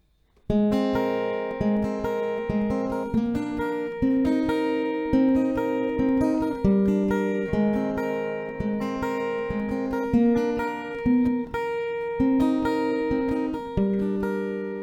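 A plucked acoustic guitar plays a steady, moderate-tempo melody with ringing notes over low bass strums, loud and close, no voices.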